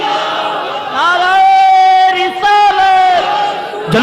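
A large gathered crowd at a Milad mahfil roars a slogan in unison after the takbir call, loud sustained massed voices rising and holding together in long chanted bursts.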